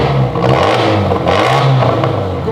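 A 54-horsepower car engine revving hard, a loud, close mid-pitched roar that rises and falls in short surges, with clattery pops and crackles mixed in and no talking.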